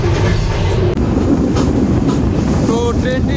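The Nilsagar Express rumbles out of Mouchak railway station, a loud, steady roar of wheels and carriages heard from on board, with clattering over the rails and a brief squeal near the end.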